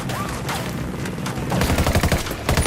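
Sustained gunfire in the tactical shooter Ghost Recon Wildlands, with several weapons firing at once in rapid, overlapping bursts that grow louder and denser toward the end, with no voices.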